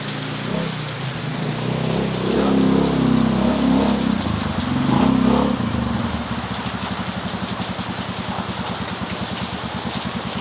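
Heavy rain pours steadily in a broad, loud hiss, with a low rumble like an idling engine beneath it and a rapid rhythmic patter toward the end.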